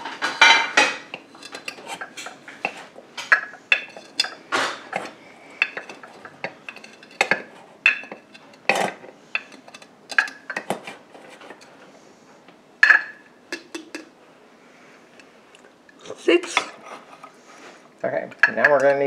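A metal spoon scooping coffee grounds into a percolator basket, a rapid series of close clinks and scrapes against metal, with a quiet voice now and then between them.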